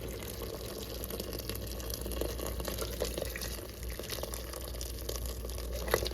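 Hot water is poured into a pot for chicken noodle soup, a faint, steady trickling splash that runs on unbroken, with a small clink near the end and no talking.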